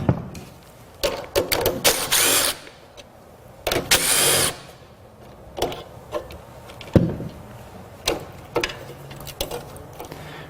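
A power tool spins nuts off the system main relays of a 2004-2009 Toyota Prius in two short whirring bursts, surrounded by sharp metallic clicks and handling noises close by.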